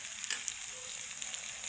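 Garlic and a chili browning in oil in a pan for chicken adobo, a soft, steady frying sizzle with faint crackles and small pops, quiet and close.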